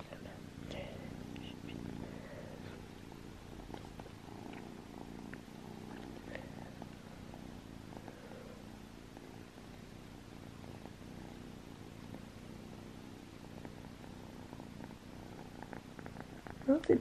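A small kitten purrs steadily and closely throughout, a soft continuous rumble with faint quiet sounds around it.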